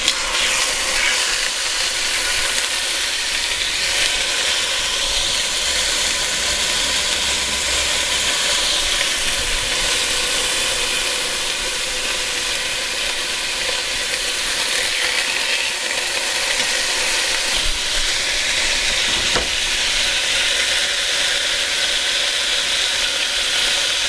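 Meat pieces browning in hot olive oil in a pan give a loud, continuous close sizzle and crackle throughout, without speech.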